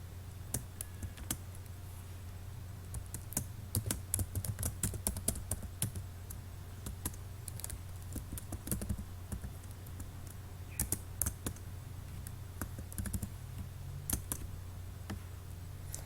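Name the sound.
typing a medicine name on a computer keyboard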